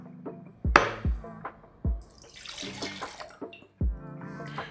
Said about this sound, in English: now all we have to do is to pour what we have left into a mixing glass